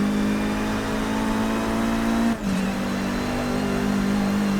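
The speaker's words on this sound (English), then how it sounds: "Okay, you're running up through the gears." A 2014 Chevrolet Cruze WTCC touring car in Forza Motorsport 6 on the Nordschleife, its engine droning steadily at high revs, with a brief dip at a gear change before pulling on again, loud and close.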